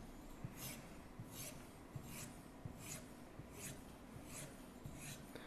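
Polishing the edge of an M398 steel knife with 7.5 diamond paste: faint, even rasping strokes drawn in one direction, repeating roughly every half second, quiet and close with no talking.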